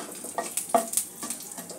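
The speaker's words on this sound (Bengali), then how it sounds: "তেলের মধ্যে ফোড়নটা যোগ করে দেব।" Panch phoron five-spice and dried chilies tempering in oil over a medium-low gas flame for a Bengali pabda fish curry, giving a short, soft sizzle with a few sharp crackles and pops.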